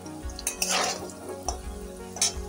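Potato pieces fry in oil with turmeric powder, broken up by a few close scraping stirs and light pan clinks over a soft sizzle.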